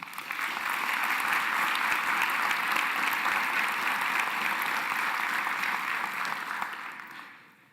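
An audience at a chancellor's installation ceremony gives sustained, even applause welcoming guests, a dense wash of clapping that holds steady before tapering off near the end.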